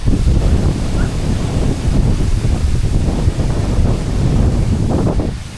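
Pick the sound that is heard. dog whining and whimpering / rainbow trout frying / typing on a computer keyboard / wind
wind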